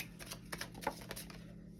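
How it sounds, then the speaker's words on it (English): Oracle cards are shuffled by hand close by, giving a brisk, papery riffling and rustling that runs steadily through the short moment with no voices. "And I'm shuffling these cards, these oracle cards for your side."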